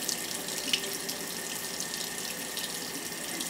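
Hot water runs steadily from a tap while a wet-felted wool bead is rolled beneath it, a continuous close splashing hiss with no voices.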